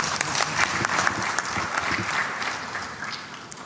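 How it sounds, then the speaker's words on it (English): Applause from the audience after a speaker at a panel session, a fairly loud, continuous burst of many hands clapping with a few voices mixed in, easing slightly near the end. "Yes, clap."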